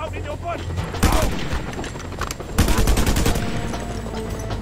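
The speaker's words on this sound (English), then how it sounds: "Can everybody stop shooting me?" Gunfire in the open-world game Just Cause 2, with repeated loud bursts of rapid shots and a sustained rattle under a busy, noisy background, interrupted by short lulls.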